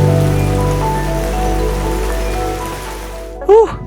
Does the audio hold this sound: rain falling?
yes